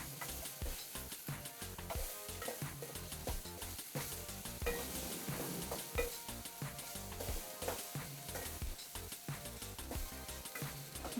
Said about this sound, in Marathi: हे सगळं मिश्रण भाजायचं,